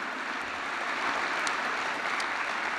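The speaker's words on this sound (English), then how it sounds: "That's a big applause for everybody." Audience applause at the ICANN57 opening ceremony, a steady, even wash of many hands clapping in a large hall, moderately distant and sustained throughout with no speech.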